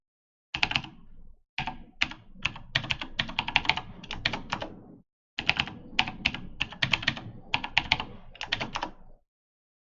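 Fast, uneven key clicks on a computer keyboard as a sysadmin password is typed during an Oracle EBS R12.2.8 setup in VirtualBox, coming in bursts with brief pauses, close and clear with no talking.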